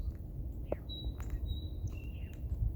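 A single bird gives thin whistled calls and chirps outdoors in the morning, fairly faint and distant over a constant low background rumble.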